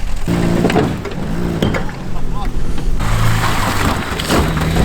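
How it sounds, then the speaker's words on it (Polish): Small tractor engine just started and running, a rough mechanical chug heard near and loud beneath excited shouting voices. "Jest, traktorek odpalił."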